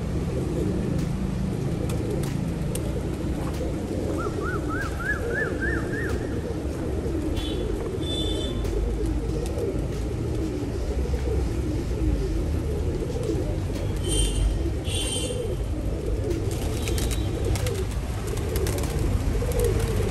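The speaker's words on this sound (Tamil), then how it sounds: "பாருங்க, இவ்வளோ புறா இருக்கு." A crowded loft of tumbler pigeons fills the air with a continuous, overlapping chorus of low cooing, with occasional sharper chirps over a dense, steady background.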